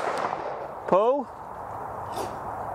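A single sharp shot from an AYA 20 bore side-by-side shotgun at a clay shoot, one loud crack standing out against steady outdoor background noise.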